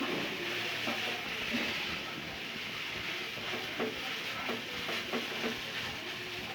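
Cheese noodles cooking in a pan over a low stove flame give a soft, steady sizzle, with a few light scraping and stirring taps near the end and no talk over them.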